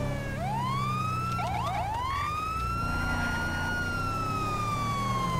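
A police car siren from the game GTA V wails in rising and falling sweeps, breaking into a quick yelping burst before settling into a long steady wail, loud and close over low engine rumble.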